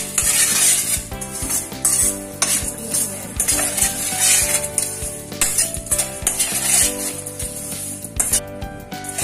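Masala puffed rice being stirred with chilli powder and salt in a pan or bowl, a dense continuous scraping and rustling with clinks of a metal spoon against the vessel, loud and close throughout.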